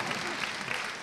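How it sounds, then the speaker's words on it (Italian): An audience applauding at a Christmas concert in Carpignano, a dense, steady wash of clapping filling the room throughout, moderately loud with no voices standing out. "Facciamo un forte applauso anche a loro"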